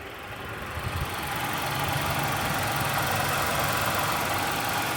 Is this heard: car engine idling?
yes